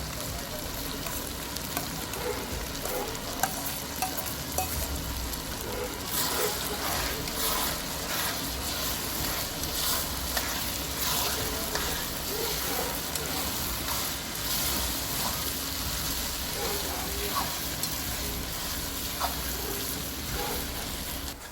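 Tomatoes frying in onion and ginger-garlic paste for Kathiyawadi ringan bharthu, a continuous dense sizzle with faint scraping and occasional soft voices in the background.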